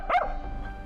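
A single short dog bark comes from a video game, near and fairly loud. A low background hum follows it.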